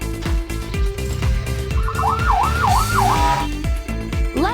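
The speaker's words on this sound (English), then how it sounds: "Police car." A police car siren from a kids' cartoon game, a bright warbling up-and-down wail repeated several times over bouncy game music and cheerful sound effects.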